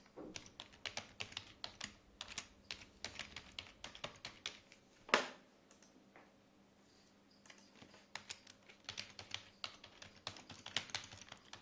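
Quiet, rapid typing on a computer keyboard while filling in sign-in details, with irregular bursts of key taps and a brief pause partway through.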